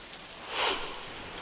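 Heavy monsoon rain pours down in Sindhudurg, Maharashtra, a steady, soft hiss of falling water that swells slightly midway through the short stretch, with no voices.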